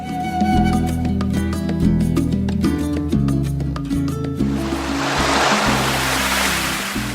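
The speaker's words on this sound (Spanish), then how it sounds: "El mar está movido" Rough sea waves surge and wash in a broad rushing roar that builds in after several seconds of music, loud and continuous as the music plays on underneath.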